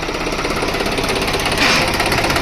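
A John Deere 5310 tractor engine, restored with scrap parts, runs steadily during a trial. It is loud and close, with an even, rapid knocking pulse and a brief rise partway through.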